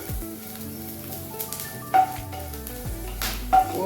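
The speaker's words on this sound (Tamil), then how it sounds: "காய வைக்க முடியலன்னா கூட அது போல் கூட நீங்கள் வறுத்துக்கலாம்." Chopped pirandai (adamant creeper) dry-roasting in a pan, giving a soft, continuous crackle and rustle with occasional scrapes as the pieces are stirred, and no talking.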